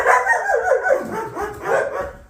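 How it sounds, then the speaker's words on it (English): Dogs bark in a quick flurry of sharp, close yips and woofs, several overlapping barks repeating rapidly with brief gaps. "The dogs aren't going rowdy."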